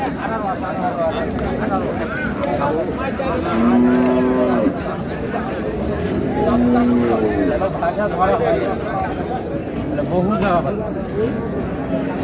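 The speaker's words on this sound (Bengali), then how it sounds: "বাচ্চা ষাঁড় বাচ্চা।" A young bull moos twice at a busy cattle market in Raniganj, Dinajpur, with long low calls rising above a constant hubbub of people talking nearby.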